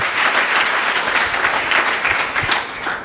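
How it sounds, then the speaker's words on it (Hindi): A room of students claps in steady, dense applause throughout, loud and continuous with no talking over it. "एक बार इस लाइन में भी ताली बजनी चाहिए"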